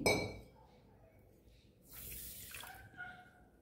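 Water is poured into a cooking pot to make sugar syrup for nikuti, a Bengali sweet, giving a brief splash and trickle followed by light dripping and faint clinks, close and fairly quiet, with no talk.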